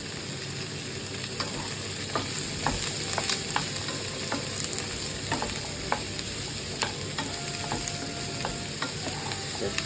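Vegetables for aviyal and sambar sizzle steadily in a hot pan, with frequent sharp scraping clicks of a spoon stirring and tossing them, loud and close with no talking.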